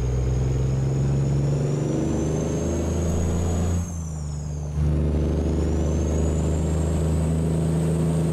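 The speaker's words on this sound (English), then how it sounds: "the engine revs up really quick on a little tap of the throttle" A Caterpillar C12 truck engine in American Truck Simulator revs and drones steadily up close, hauling a bulk hay trailer, with a brief dip in revs midway before it pulls back up alone.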